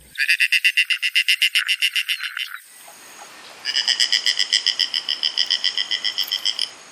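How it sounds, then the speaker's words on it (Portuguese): A snail kite gives a hoarse, laughing call: a fast run of repeated nasal notes, a short break, then a second longer chattering series, clear and fairly close with no other sounds. "O som do caramujeiro parece alguém rindo aí, já quase sem voz, né?"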